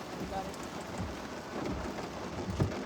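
Rain falls outdoors in a steady, soft patter with a dense wash of drops and a few louder splashes, continuous throughout with no talking.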